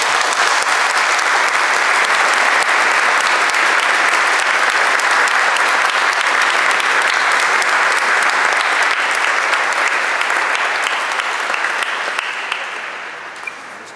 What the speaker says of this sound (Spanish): Les damos un fuerte aplauso de bienvenida.